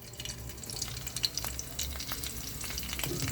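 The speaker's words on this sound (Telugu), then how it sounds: "ఇది పచ్చిమిర్చి అండ్ కరివేపాకు 2 వేసుకోవాలండి" Green chillies and curry leaves fry in hot oil in a pan, a close continuous crackling sizzle with occasional stirring scrapes and pops, moderately quiet and without speech.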